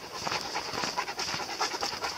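Dogs pant rapidly and steadily on a hike in Repovesi, a close, fairly quiet rhythmic huffing with no voices.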